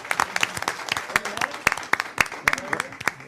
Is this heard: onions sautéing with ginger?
no